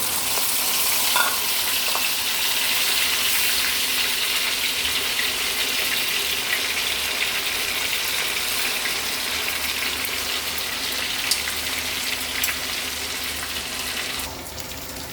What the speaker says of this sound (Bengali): এইভাবে আস্তে আস্তে করে ভিন্ডিগুলো ভেজে নিচ্ছি।